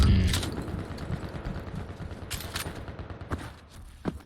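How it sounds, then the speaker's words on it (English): Nailgun spam in the arena shooter Quake Champions during an OCE kuachi cup match, a dense stream of rapid-fire shots and impacts rattling continuously with a few sharper bursts standing out. "That nail spam's gonna keep Python off him"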